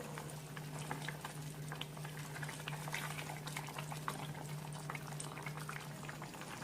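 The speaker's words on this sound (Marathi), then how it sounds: "दहा मिनटं झाली आहेत कालवण हलवून घ्या" Prawn curry (kalvan) bubbles steadily in a pot, a dense continuous simmering patter with scattered soft pops and a low steady hum beneath, moderately quiet and without voices.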